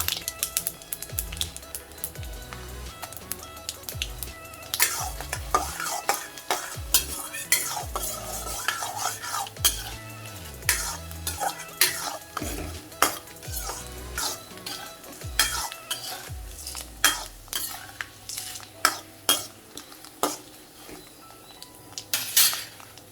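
Cashews fry in a pan at medium heat while a spoon repeatedly scrapes and clatters against the metal, irregular sharp clinks and stirring strokes over a faint sizzle, close and without speech.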